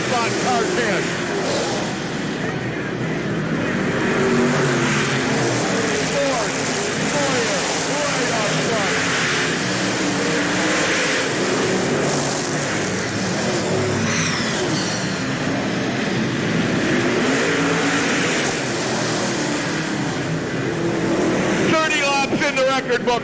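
Late model race cars on a dirt track in Hales Corners during a World of Outlaws feature, with engines roaring continuously as cars pass close. An announcer talks over the racing noise.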